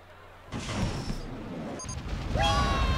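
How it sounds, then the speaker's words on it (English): Booming explosions in the video game RollerCoaster Tycoon 3 with crashing debris, a burst of rumbling impacts followed by a rising electronic whine, loud and continuous. "Explosions. Explosions."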